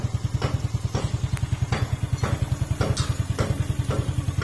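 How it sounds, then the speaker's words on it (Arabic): Prepared Dacia Dokker engine running hard with a steady, fast pulsing throb and periodic raspy surges, close and loud, with no voices. "الموتور مفورسي"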